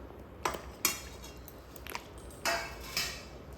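A metal lid clanks onto a pot of boiling water with lemon peels, several sharp, bright metallic clinks and rattles spaced out over a few seconds, fairly close, with no talking.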